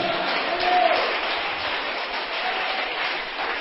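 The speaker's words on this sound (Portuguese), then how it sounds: "Você pode aplaudir o Eterno." A church congregation applauds together during a worship service, a steady wash of clapping that fills the space at moderate loudness for the whole stretch, with a faint tonal hum beneath.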